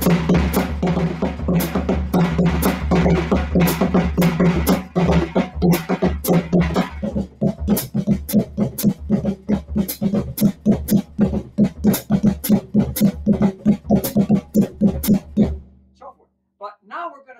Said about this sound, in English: you could actually play that rhythm just like you do on hartigan with your hand muting on the snare drum